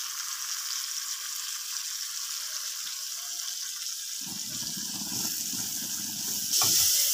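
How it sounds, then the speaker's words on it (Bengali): Chopped onions and green chillies sizzle in hot oil over medium heat for a prawn dopiaza, a steady hiss that swells and crackles louder as the pan is stirred near the end. "এখন এই পেঁয়াজগুলো আমি মিডিয়াম আঁচে ভেজে নেব"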